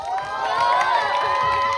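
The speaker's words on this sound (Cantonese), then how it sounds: "熱烈嘅掌聲，我哋嘅主創成員們" A crowd at the Hong Kong roadshow for the film Kung Fu Soccer applauds and cheers the cast, a steady, full wash of clapping and shouts with no pauses.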